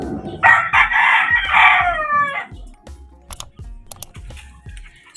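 Four-month-old chickens, including young roosters, crow up close with one loud rough cock-a-doodle-doo, followed by softer scattered clucks and rustling from the flock.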